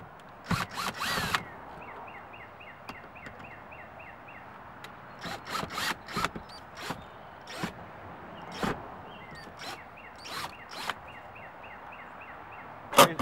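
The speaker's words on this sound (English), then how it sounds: "take the 2 rear screws out." Rear screws come out of an interior panel on a 1992 Ford Mustang LX, heard as short, separate bursts of a cordless driver whirring, spaced irregularly across a quiet background, each brief and close.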